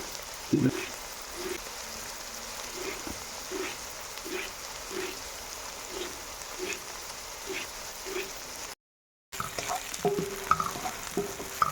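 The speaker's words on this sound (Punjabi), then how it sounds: "ਤੜਕਾ ਆਪਾਂ ਨੂੰ ਭੁੰਨ ਲਿਆ ਨੂੰ 3-4 ਮਿੰਟ ਹੋ ਗਏ ਆ" Oil sizzles and crackles steadily as spices temper in a pan for a carrot and pea curry, with soft periodic stirring knocks; the sizzle briefly cuts out, then resumes with a few clinks.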